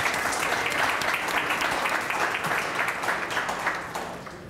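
An audience at a competitive data science panel applauds a panelist as he is introduced. The clapping is full and sustained, then gradually fades toward the end.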